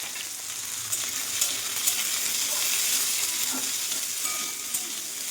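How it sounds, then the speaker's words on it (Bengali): Slices of spiny gourd fry in a pan with a quiet, steady sizzle and a few soft clicks and stirring scrapes, heard alone without talk. "এটা ভাজা হতে থাক"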